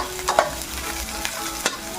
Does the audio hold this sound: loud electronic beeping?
no